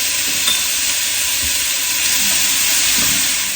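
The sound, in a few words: carrots, celery, onion and garlic sizzling in a pot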